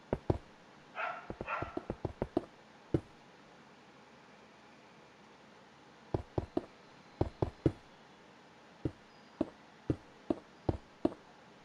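A dog barks in a Minecraft game, with sharp isolated barks in bursts and irregular clusters, some doubled, over near silence.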